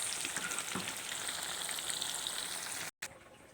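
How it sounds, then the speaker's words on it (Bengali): Hilsa fish pieces fry in a pan with a dense, steady crackling sizzle that stays even and close, then cuts out briefly before resuming more faintly. "আমার ইলিশ মাছগুলো ভাজি হয়ে গেছে অনেক সুন্দর হয়েছে ভাজি দেখেন"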